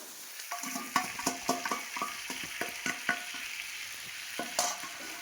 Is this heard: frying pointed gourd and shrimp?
yes